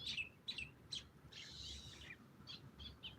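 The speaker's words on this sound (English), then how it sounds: "The birds are talking." Birds chirping outdoors: faint, repeated short high chirps in quick clusters, with one longer warbling call in the middle, over quiet background hum.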